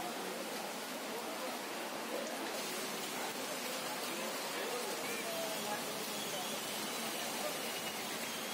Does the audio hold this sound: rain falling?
yes